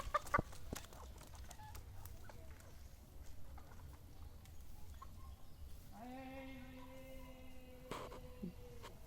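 Native village chickens cluck in a rural northern Bengal setting on a foggy late-winter morning, with soft scattered clucks over a low outdoor hum and a louder, sustained call near the end.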